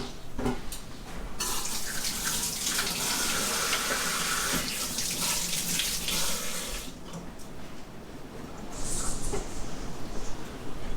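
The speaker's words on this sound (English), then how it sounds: "I'm gonna give my hands a quick rinse off so that I can handle the mozzarella cheese better" Hands rinsed under a running kitchen tap, water splashing steadily and fairly close, with a brief pause and a louder gush near the end.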